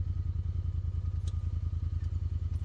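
A 2024 Honda Talon 1000X-4 side-by-side crawls over big rocks, its engine chugging in a low, steady pulse close up, with faint knocks and clatters from the terrain.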